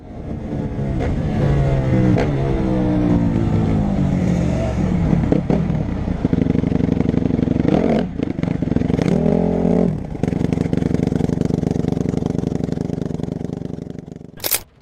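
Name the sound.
ATV engine revving during police chase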